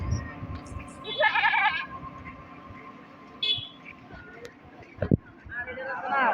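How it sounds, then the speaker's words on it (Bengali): Goats bleat in bursts at a crowded cattle market, some close and some farther off, amid steady crowd chatter, a passing motorbike and a brief thump. "যেটা তো একদম ঘাইমা গেছে ছাগল দিয়ে।"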